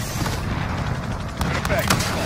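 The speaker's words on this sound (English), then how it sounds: "Mike, here comes gun run." An aircraft gun run in a Modern Warfare campaign mission rumbles continuously with low booming cannon fire. A few sharper bursts stand out near the end, and radio chatter plays over the barrage.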